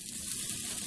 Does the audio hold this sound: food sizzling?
yes